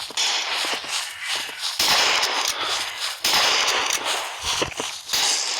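Gunshots ring out in a Roblox western game, sharp cracks repeating every second or so over a busy, noisy game background, with no talking.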